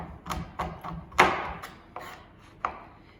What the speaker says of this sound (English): I don't know if I want to really be chopping chocolate